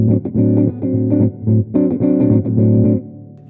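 Choppy, rhythmic gypsy jazz guitar chords strummed in short bursts with brief gaps, bright and slightly processed in tone, played alone without voices.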